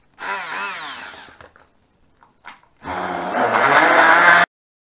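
Electric hand mixer whirring while beating a drink mixture: a loud burst of motor whine, a few brief clicks and bumps, then a second sustained buzzing run that cuts off abruptly.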